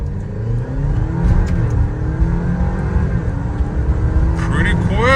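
A 2022 Alfa Romeo Stelvio accelerating hard from 0 to 60, a steady loud engine drone with rising whine from inside the cabin, ending in a quick upshift-like sweep near the end.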